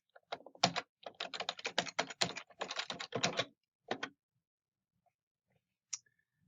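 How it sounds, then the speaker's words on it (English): Search text being typed on a computer keyboard, a quick run of close, crisp key clicks in uneven bursts for about four seconds, then a few scattered taps and near silence. "So I'm going to type in my search here."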